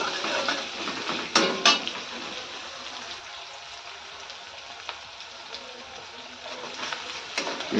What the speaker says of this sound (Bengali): ভালো করে এটাকে আমি ভেজে নেব।